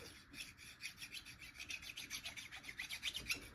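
Small hand file rasping rust off a Husqvarna 480CD chainsaw ignition coil, a steady run of quick, close scraping strokes in a fast, even rhythm with no talking.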